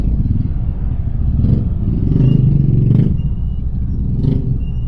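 Heavy slow-moving road traffic beside roadworks, with car and motorcycle engines rumbling and idling close by, one vehicle revving and passing midway, steady and loud with no talking.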